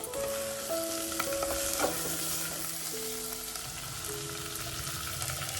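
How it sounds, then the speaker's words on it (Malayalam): Two drumstick pods and a potato are stirred into a hot pan, with a loud, continuous frying sizzle and the scrape of a spatula throughout, and a few faint tonal notes in the background. "ഇനി ഇത് 2 മുരിങ്ങക്കായും ഒരു ഉരുളക്കിഴങ്ങും കൂടി ഇതിലേക്ക് ചേർത്ത് ഒന്നുകൂടി നല്ലതുപോലെ ഇളക്കി കൊടുക്കാം."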